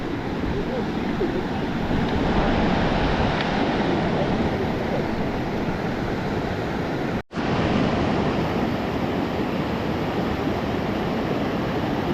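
Continuous rushing of a flowing river at a vehicle water crossing in a small river valley in western Canada, broadband and steady with wind-like noise, close to the microphone and uninterrupted apart from one brief cut.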